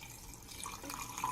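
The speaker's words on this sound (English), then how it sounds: "so let me add some water." Water is poured into a glass of homemade detox drink, a faint, brief trickle and splash lasting just over a second.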